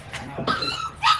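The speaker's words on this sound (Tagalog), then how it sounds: "ang ingay ng aso namin" A dog makes a few short, yelping barks, close by and moderately loud, in brief bursts.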